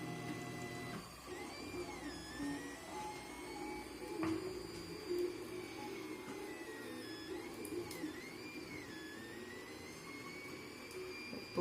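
A home 3D printer starts printing with filament once heated, its stepper motors whining in rising and falling sweeping tones over a steady low hum, quiet and close.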